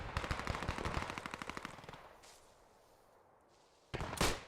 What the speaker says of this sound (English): Jam Falcon spraying down with that MP40